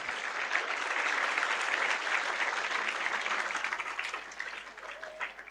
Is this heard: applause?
yes